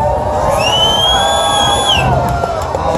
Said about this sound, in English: I need you guys to scream for Galaxy Girl.